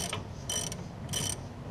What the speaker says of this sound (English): 1/2-inch drive ratchet